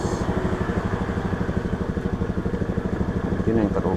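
A Honda Scoopy scooter, with a weak battery and a wiring short at the regulator, has its engine revved, a steady rhythmic putter rising in speed toward the end, close by and loud.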